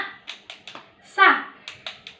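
A classroom clapping the tepuk hamasah rhythm, sharp claps in a short syllable-timed pattern mixed with a teacher and children chanting along.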